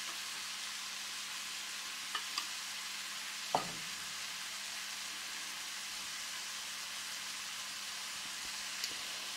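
Chinese noodles with vegetables and tuna fry in a pan with a steady, even sizzle, joined by a few faint clicks and one short scrape of stirring near the start.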